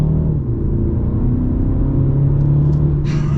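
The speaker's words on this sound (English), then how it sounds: "so we're gonna get a little acceleration here at the 2 Series" A 2023 BMW 228i Gran Coupe accelerating, a steady engine drone rising slightly in pitch beneath road rumble, heard from inside the cabin, with a faint click near the end.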